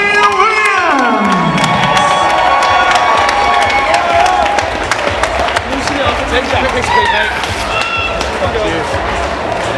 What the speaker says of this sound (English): And let's have a big round of applause for Ian Williams!